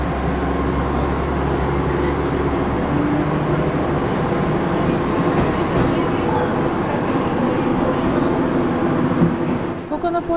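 A train pulls away from Tsubojiri switchback station on JR Shikoku's Dosan Line with a low steady rumble and droning motor hum, building gently as it gets under way, with a brief rattle at the end.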